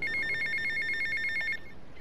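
A payphone rings in GTA Vice City, a rapid electronic trill repeating in quick bursts for about a second and a half before cutting off, loud and close with no talking.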